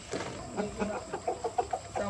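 Chickens cluck in a rapid series of short, faint notes, with a quiet voice murmuring in the background.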